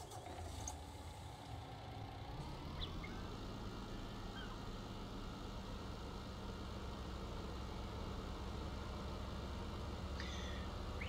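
A tractor engine in Landwirtschafts-Simulator 19 starts and settles into a steady, low idling rumble that continues evenly and quietly throughout.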